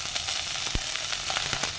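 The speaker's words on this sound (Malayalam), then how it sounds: "വെളിച്ചെണ്ണ ചൂടായി, അതിലേക്ക് കറിവേപ്പില, പച്ചമുളക്, ഉള്ളി, ഇഞ്ചി" Curry leaves, green chilli, onion and ginger hit hot coconut oil for a Kerala fish curry, giving a brief burst of close, steady sizzling with a few sharp crackles.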